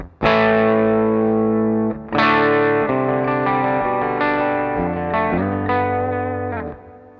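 Loud, sustained electric guitar chords with heavy distortion and a chorus-like shimmer, several strummed chords ringing out one after another with no voices.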